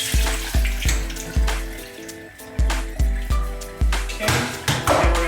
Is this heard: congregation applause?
no